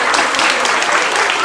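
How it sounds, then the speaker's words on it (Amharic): A crowd claps warmly for kindergarten children at their graduation ceremony, a dense, even burst of applause, loud and close, lasting only a moment. "በመጀመሪያ አንድ ሞቅ ያለ ጭብጨባ ለእነኚህ ህፃናት"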